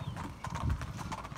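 Racehorses heading out for a morning gallop clip-clop in a quick, steady rhythm, their hoofbeats moderately loud against faint background noise.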